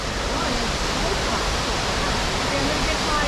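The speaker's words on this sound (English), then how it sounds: "watch the waterfall" A waterfall on a hiking trail makes a loud, unbroken broadband rush of falling water, steady and close, with no other distinct sounds.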